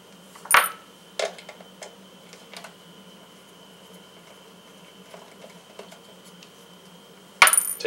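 Small Torx T9 screws being undone from an Xbox One wireless card, with a few sharp metallic clicks and taps from the bit and parts, quiet handling between them, no talking.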